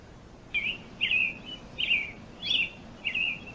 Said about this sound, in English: A bird is chirping.